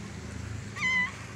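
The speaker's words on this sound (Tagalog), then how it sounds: "Ang kulit ng pusa, oh." A cat gives a single short, clear meow close by over a low background hum.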